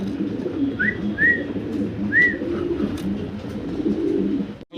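Fancy Mundian pigeons coo in a low steady murmur at a pigeon seller's loft, with a few brighter short calls rising above the rumbling flock, close and continuous, no talking.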